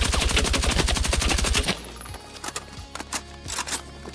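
Rapid automatic weapon fire in Battlefield 6, a dense burst of evenly spaced loud shots lasting about a second and a half, then a few scattered single shots and clanks against a low background rumble.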